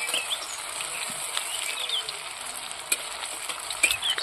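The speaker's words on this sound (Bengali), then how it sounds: "এরপর এগুলোকে আমি খুব খরা খরা করে লাল লাল করে একটু ভেজে নেব।" Soybean kebabs frying in hot oil until crisp and red, a steady close sizzle and bubbling with occasional light stirring clicks, no talking.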